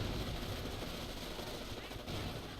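Machine gun fire and battle noise from the Company of Heroes World War II strategy game, a dense continuous roar of rapid gunfire with explosions, loud and steady throughout with no pauses.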